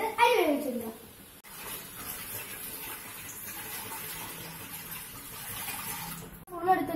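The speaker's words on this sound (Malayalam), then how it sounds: "അപ്പൊ ഇത് നമുക്ക് ഇനി നമുക്ക് വെള്ളം ഒഴിച്ചിട്ട് അരി വേവിച്ചെടുക്കാം." Water is poured into a pot for cooking rice for squid fried rice, a steady splashing gush lasting several seconds, close and moderately loud, with a voice briefly at the start and end.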